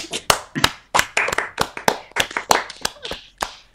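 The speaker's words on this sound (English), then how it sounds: "Clap." A handful of people clap sharply and fairly close, with about a dozen loud, irregular hand claps spread across a few seconds and no talking.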